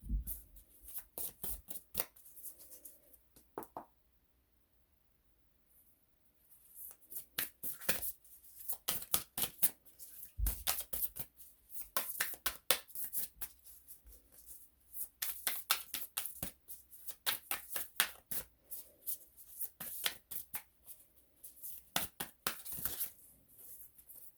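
An oracle card deck shuffled by hand, a quick run of crisp papery riffles and flutters that repeats in bursts, near and fairly loud, with a short pause early on and no talking.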